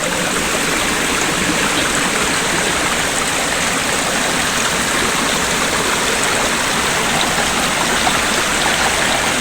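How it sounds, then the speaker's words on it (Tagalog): A small stream flows among rocks outdoors, its steady close rush and babble filling the whole stretch at an even level, with no voices. "Ito may sapa na maliit."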